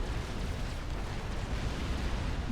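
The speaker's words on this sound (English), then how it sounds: "That artillery just gets wasted." Artillery shells land in a Supreme Commander battle as a steady, broad rumble of distant blasts and booms that fills the whole stretch without clear separate hits.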